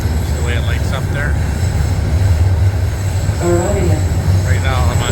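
A Toronto subway train rumbles along loudly and steadily, with a low droning roar and brief squealing tones from the wheels, while people talk faintly in the car.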